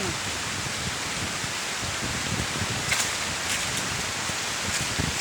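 Steady rain falls on the high branches of a pili tree laden with fruit, a constant broadband hiss with a few brighter drop patters, close around the listener with no talk.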